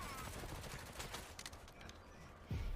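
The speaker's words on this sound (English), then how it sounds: "Trying to shoot someone that far with the SMG is ambitious." SMG fire in the VR shooter Forefront, a burst of rapid gunshots landing as a dense rattle that fades, then a louder thump near the end, with no one talking over it.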